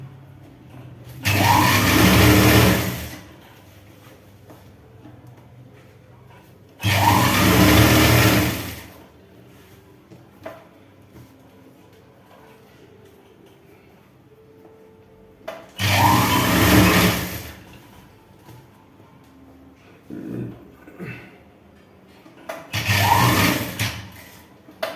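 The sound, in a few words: sewing machine stitching a chudi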